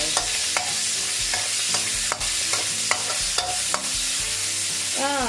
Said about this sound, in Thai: ตอนนี้เราก็จะเอาหมูใส่ลงไปค่ะ